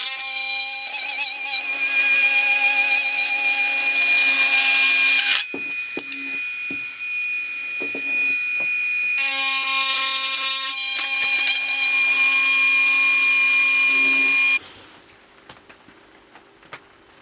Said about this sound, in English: I favour a tri-cutter for this, but any acrylic burr will work.